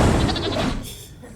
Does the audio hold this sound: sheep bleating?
yes